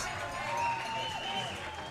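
Minor-league baseball crowd at an Auburn Doubledays home game cheers and applauds after a go-ahead three-run double in the seventh inning, a steady, moderately loud wash of clapping and voices lasting the whole moment.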